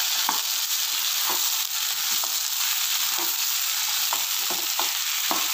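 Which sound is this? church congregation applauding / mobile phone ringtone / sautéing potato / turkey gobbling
sautéing potato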